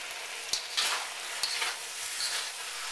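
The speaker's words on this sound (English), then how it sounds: "Stir fry a little bit more." Beef and broccoli stir fry sizzles steadily in a hot wok, a loud continuous hiss with a few sharp clinks of a spatula against the pan, close and without talk.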